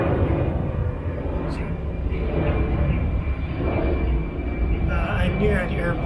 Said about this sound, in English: Let's wait for that airplane.